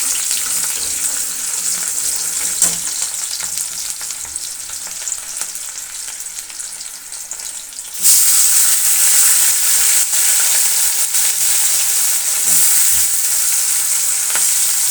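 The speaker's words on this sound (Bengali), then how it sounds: "চিংড়ি মাছও দেওয়া হয়ে গেলো এবারে সব কিছুতে একসাথে একটু ভাজা ভাজা করে" Prawns and chopped onion fry together in a pan, a steady close sizzle with faint stirring scrapes that jumps to a louder, brighter hiss about halfway through and holds there.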